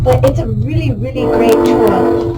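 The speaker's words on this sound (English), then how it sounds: "I apologize for the train." A passing train sounds its horn in the background, a wavering tonal blare under someone speaking indoors, with rumbling rail noise continuing beneath her voice.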